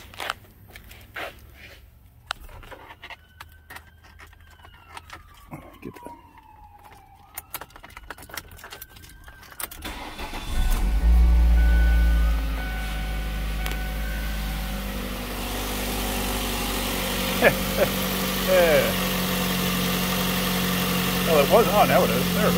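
A car engine cranks and catches with a loud rumble, then settles into a steady idle. Before the start there are scattered clicks and a key jingle, and a voice speaks over the running engine.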